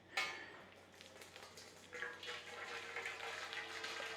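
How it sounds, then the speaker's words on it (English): Boiling water pours into a pudding pot holding a corned beef hash suet pudding, a soft steady splashing and trickling that swells after a couple of seconds and carries on, close by with no talk. "Put some boiling water in there"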